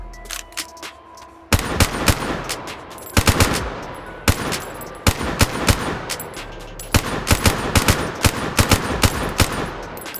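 Gunfire from a Black Ops III weapon in the VR game H3VR, fired in rapid irregular bursts of sharp, loud shots with brief pauses between volleys, no talking.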